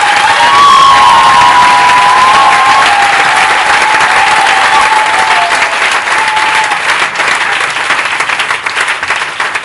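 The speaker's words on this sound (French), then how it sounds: "Can we clap for the Lord?" Church congregation clapping and cheering for the Lord at a Pasteur Lawa Jean service, a dense, loud sustained wave of applause with some shouts and whoops throughout.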